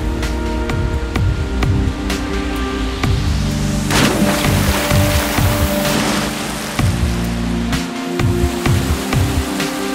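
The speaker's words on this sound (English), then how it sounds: "The gushing rapids make for one of the best rafting experiences down south." Gushing river rapids on a rafting stretch in the south, a continuous loud broadband rush of churning water with scattered splashes and no voices.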